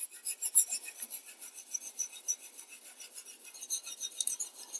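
A knife blade is rubbed in steady back-and-forth strokes on a coarse whetstone, a close, continuous gritty rasp with soft rhythmic pulses and no talking.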